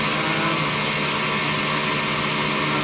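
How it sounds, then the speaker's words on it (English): A 1997 Mazak traveling-column vertical machining center has its spindle running at 4,500 RPM, giving a steady, even whine and hum close by with no pauses. "Mazak BTC-30 in operation, spindle operation."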